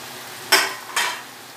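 Semolina, curry leaves and peanuts hit hot oil in two quick sizzling bursts, each fading into a soft fry, close and moderately loud with no talk.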